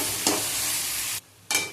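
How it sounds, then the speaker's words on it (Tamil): Ginger garlic paste with onion and tomato stir-fried for egg curry: loud close sizzling with spatula scrapes, cutting out briefly to silence before the hiss returns. "நல்லா இது போல் வதக்கி விட்டுக்கோங்க ஃப்ரெண்ட்ஸ்"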